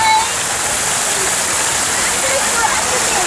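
Steady, loud rush of splashing water from a fountain at a kids' splash pool in Chinguacousy Park, Brampton, Ontario, filling the whole clip, a continuous dense spray without pauses.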